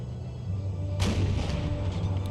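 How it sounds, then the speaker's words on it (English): A howitzer battery fires in an Empire 2 battle during an artillery duel, delivering one loud, sudden boom that rumbles and decays over a couple of seconds. "we're having a bit of an artillery duel with howitzers."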